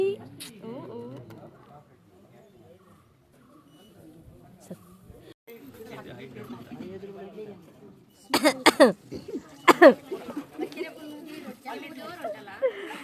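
Loud coughing at a family engagement gathering: a few sharp, harsh bursts close by, following a stretch of quiet background chatter.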